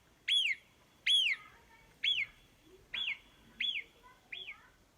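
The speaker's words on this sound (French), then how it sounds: "La marmotte a vu un danger. Elle siffle, siffle avant de s'en aller." A marmot in the mountains gives a series of six sharp, high whistles, evenly spaced about a second apart. The calls are loud and clear against a quiet background.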